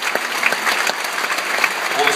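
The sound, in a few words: audience applause at festival opening ceremony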